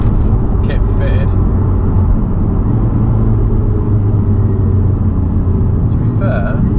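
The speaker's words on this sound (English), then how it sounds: "You can hear the induction, it's got a ram air induction kit fitted." A VW Golf R Mk6 fitted with a ram air induction kit, driving on the road. Its engine and intake give a loud, steady low rumble from inside the car, with brief faint chirps in between.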